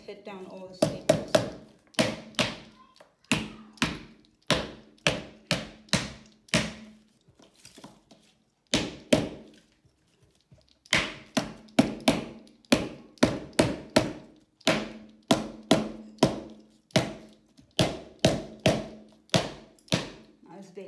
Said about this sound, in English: it's a rubber hammer, and just hit down all the staples